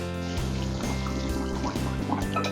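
Cooked ramen noodles rinsed under a cold running kitchen tap, a continuous loud splashing pour close to the microphone with steady hum behind, no talk.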